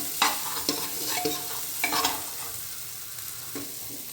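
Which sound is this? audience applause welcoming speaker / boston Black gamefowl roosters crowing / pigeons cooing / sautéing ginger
sautéing ginger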